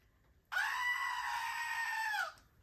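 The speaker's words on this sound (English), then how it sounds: "the goat screams because he's so happy that I'm using his fiber" A single loud goat scream played as a celebration sound effect, a sustained bleating cry lasting under two seconds and heard alone over faint background.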